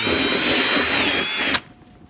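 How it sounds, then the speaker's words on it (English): A power tool with sandpaper runs loud and steady, grinding old glue off the headliner of a 2002 Chrysler Town & Country, then cuts off near the end and leaves a quieter background. "I'm going to be using this and sandpaper to get all the glue off"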